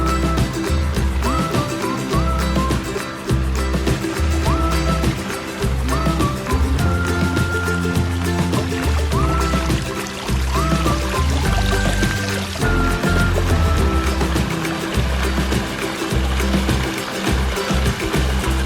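Water pours steadily over a backyard garden waterfall, a continuous close splashing rush that stays even throughout, mixed with faint background music and no talking.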